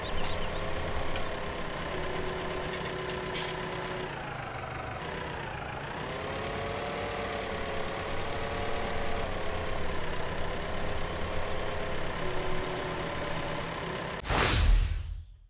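An old tractor engine running at a steady idle nearby, a low continuous rumble with a brief dip in pitch partway through and a sharp clunk near the end.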